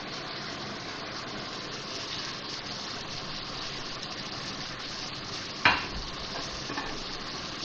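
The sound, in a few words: stirring and frying chow mein ingredients in a pan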